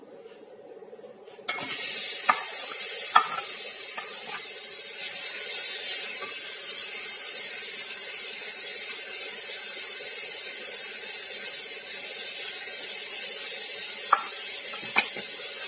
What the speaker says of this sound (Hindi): घी हमारा गर्म हो चुका है, तो इसमें हम डाल देंगे ये गाजर को।